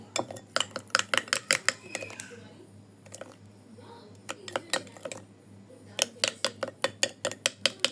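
Utensils clink and scrape repeatedly in a bowl while a cornflour mixture for spicy fried bread slices is stirred, quick rhythmic taps in bursts with a quieter pause in the middle.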